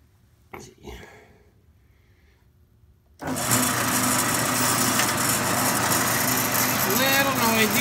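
A Johnson Model J horizontal bandsaw starts up after a few faint knocks and then runs with a steady, loud mechanical whir and hum, with a varying whine near the end.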